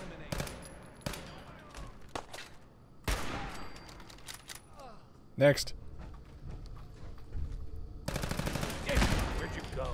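Gunfire in the video game Fallout 4: repeated bursts of shots and heavy blasts in several loud clusters, mixed with game sounds, while a player talks over the action.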